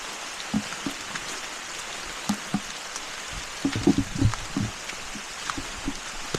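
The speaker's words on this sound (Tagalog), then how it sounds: "Nabutan tayo ng ulan." Rain falls outdoors in a steady soft hiss, with scattered louder drops tapping nearby surfaces in irregular bursts and no voices.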